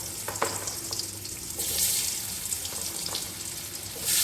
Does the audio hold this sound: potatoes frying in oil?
yes